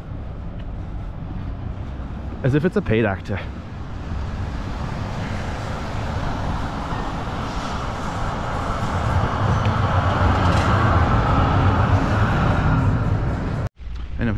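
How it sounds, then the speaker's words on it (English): Tram rolling past on a city street in Oslo, a broad steady rumble of wheels and traffic noise that swells through the middle and holds until a sudden cutoff near the end, with a brief voice speaking early on. "and there's a cool tram. Look at that."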